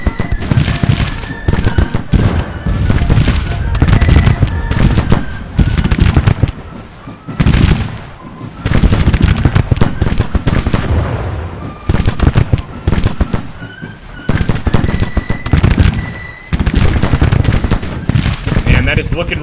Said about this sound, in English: Keep it going, boys. Open fire, Palmer!